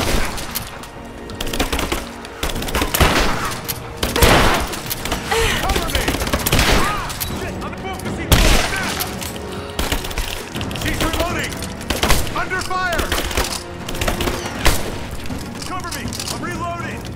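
Heavy exchange of gunfire in Rise of the Tomb Raider, loud rattling bursts with booming impacts across the whole stretch, mixed with voices calling out during combat.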